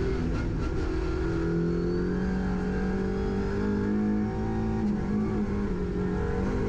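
An Audi RS3 LMS race car engine howls at full throttle on the Nürburgring Nordschleife, a loud, sustained onboard drone with steady pitch and no voices.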